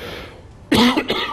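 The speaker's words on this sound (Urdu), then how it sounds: "یہ بات کرتے ہوئے آپ کو خود کھانسی آ گئی" A person coughs on a Pakistani TV current-affairs talk show: one sharp, close cough followed by a shorter second one, loud against a quiet studio background.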